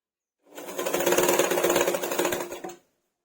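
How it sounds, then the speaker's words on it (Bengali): A sewing machine stitches around the edge of a bolster pillow cover made from old cloth, one loud, steady whirring run of about two seconds that starts and stops cleanly, with no talk. "চারদিকটা সেলাই করে নিচ্ছি"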